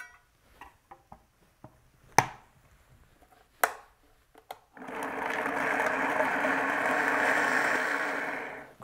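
Tofu, Bragg's aminos, arrowroot powder and walnuts go into a blender. A few knocks and clatters come first, then the motor starts and runs as a steady, loud whir for several seconds.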